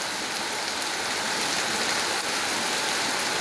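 Heavy rain pours down in a steady, dense, unbroken hiss that stays loud and even throughout, with no voices.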